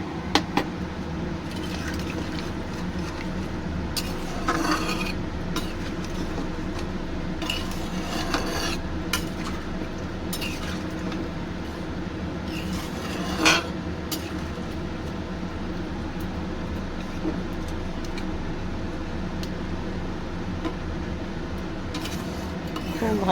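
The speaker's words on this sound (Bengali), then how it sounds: "খুব ভালো করে নেড়ে চেড়ে" Potato curry (aloo dum) stirred with added water in a cooking pot, a steady soft scraping and sloshing with occasional louder clinks of the spoon against the pot, close and continuous without talk.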